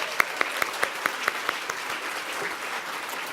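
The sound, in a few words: audience applause at awards ceremony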